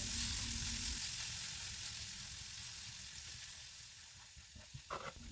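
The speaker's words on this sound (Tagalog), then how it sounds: "Isunod na igisa ang garlic hanggang maging light brown." Ginger and garlic sauté in hot oil left over from frying tofu, giving a steady, fairly quiet sizzle and hiss that fades slightly, with a few soft stirring knocks near the end.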